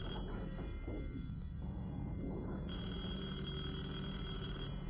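A telephone rings in the horror video game Detention, a steady electronic ring tone over a low ambient drone, with the ringing growing brighter and fuller partway through, and no speech.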